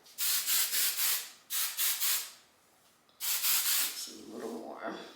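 Three quick bursts of makeup setting spray hiss close by in short pumped sprays, then a softer rustle follows.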